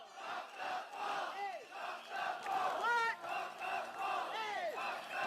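A crowd at a Singapore Democratic Party political rally for Bukit Panjang SMC at Beacon Primary School chants and cheers in repeated rhythmic swells. Raised voices and whoops rise and fall steadily throughout.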